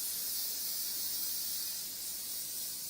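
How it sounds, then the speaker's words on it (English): Hairspray hissing from an aerosol can onto styled hair, a continuous close bright spray lasting about three seconds with no pauses or talk. "you're just going to grab your hairspray"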